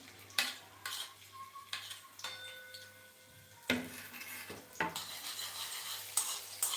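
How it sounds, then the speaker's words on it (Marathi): Garlic cloves and finely chopped ginger are sautéed in a pan for Punjabi-style dal tadka, heard as quiet intermittent scrapes and taps of a spoon with a soft sizzle beneath, close and fairly faint. "त्यामध्ये सुरुवातीला घालायच्या लसणाच्या पाक्या नंतर जे काही आपण अद्रक बारीक केलेलं आहे ते त्यामध्ये घालून घ्यायचं"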